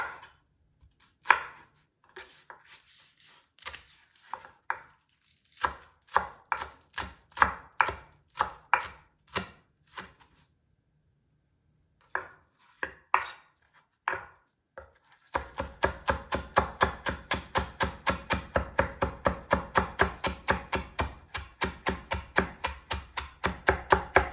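A knife chopping green onion on a cutting board, first in uneven sharp taps with pauses, then a steady, fast rhythm of close, crisp strokes; no talking.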